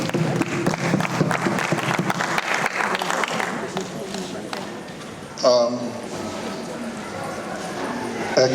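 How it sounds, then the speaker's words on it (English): An audience at a GUOSA language train-the-trainers closing ceremony at the University of Abuja claps in a dense, steady wash for several seconds, then the clapping thins as a voice begins speaking over the hall. "A round of applause."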